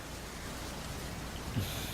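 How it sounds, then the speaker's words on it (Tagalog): Rain falls steadily outdoors as a soft, even hiss of drops, faint and continuous with no voices. "Parang ngayon na lang ulit ako naka-experience ng ulan."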